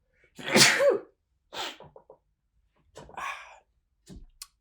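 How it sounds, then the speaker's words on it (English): A sharp sneeze bursts out near the start, followed by a few quieter breaths and soft mouth sounds. "excuse me, sneeze"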